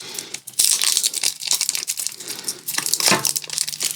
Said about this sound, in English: let me get it unwrapped